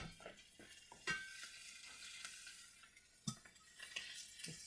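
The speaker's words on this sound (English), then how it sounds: "Stir fry it a little bit more to get the taste of the pepperoni into the spinach" Pepperoni and spinach stir-frying in a pan for a spinach pie, a steady close sizzle with scraping stirs and occasional utensil clinks against the pan.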